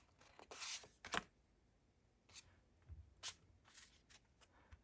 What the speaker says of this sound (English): Let's shuffle this up,